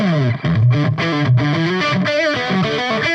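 Distorted electric guitar played through a PRS Archon 50 amplifier with its mid band adjusted, a short busy riff with bending, chorus-tinged notes, loud and close with no talking.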